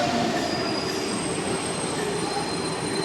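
Rail cars of a metro-style train roll steadily past at close range, wheels squealing with a high whine over a dense, continuous rumble and faint clatter, loud and unbroken throughout with no voices.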